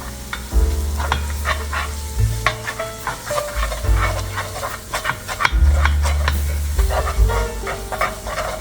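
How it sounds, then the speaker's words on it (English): Close, steady scraping of a utensil stirring chopped vegetables in a hot pan over low heat for shrimp etouffee, with continuous sizzling and rhythmic strokes, no talking. "And keep on stirring it."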